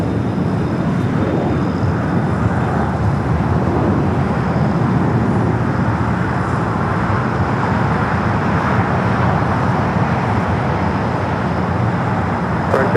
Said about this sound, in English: Sun Country and the Minnesota Gophers, 737-800, now starting its taxi, should stay here on the south side.